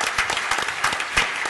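Audience applause for a panel at the SCAG Economic Summit 2016, a brief, full burst of many hands clapping at steady loudness with no talk.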